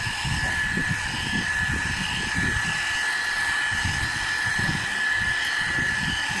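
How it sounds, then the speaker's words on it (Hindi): Steady, continuous whoosh of a hair dryer blowing freshly step-cut, U-shaped long hair dry in a beauty parlour, holding at an even level throughout with a faint fluttering from the airflow. "मैं कर देती हूँ कटिंग के ऊपर ड्रायर"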